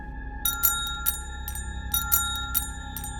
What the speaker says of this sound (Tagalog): biglang tumunog ang isang bell.